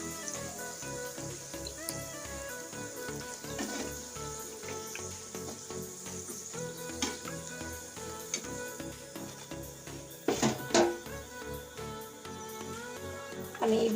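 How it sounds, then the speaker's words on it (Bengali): Pieces of a potato snack fry in hot oil, giving a steady, soft sizzle throughout with occasional bubbling pops and a brief louder clatter near the end, no voices. "আমি এইভাবে বাকিগুলো ভেজে নিচ্ছি।"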